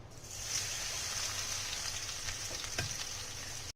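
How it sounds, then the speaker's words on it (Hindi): Spiced okra (bhindi) fries in hot mustard oil over a medium flame, giving a steady, dense sizzle with a faint scrape of a stirring spoon near the end. "भिंडियों को हल्का सा कलर चेंज होने तक लगातार चम्मच चलाते हुए फ्राई कर लेंगे"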